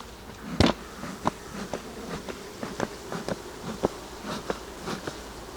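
Honey bee colony with a fresh honey super buzzing at the hive, a steady close drone with several sharp knocks and clicks from handling the wooden boxes.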